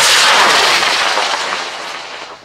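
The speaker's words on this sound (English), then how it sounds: "We got rockets everywhere. I think the V8 fired as well. We have lots of rockets." Several model rockets lift off together in a loud, dense roar of hissing motor exhaust that fills the whole moment and slowly fades, heard alone without talk.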